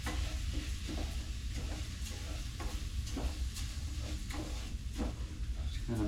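Rice stirred and browning in a frying pan, giving a steady close sizzle with soft scraping strokes repeating through the whole stretch and no talk.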